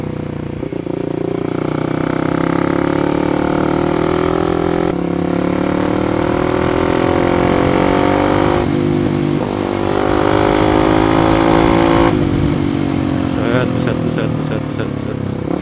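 A Kawasaki KLX 250 Supermoto motorcycle engine drones steadily while riding, rising and falling in pitch as it shifts and accelerates, loud and close throughout.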